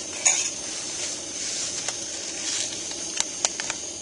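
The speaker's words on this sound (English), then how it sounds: "Gonna have some rice and chicken as soon as we get this water boiling." Metal camp cooking pots clink and scrape near a backcountry campsite in a mountain canyon while water heats for rice and chicken, a few sharp knocks standing out over a steady hiss.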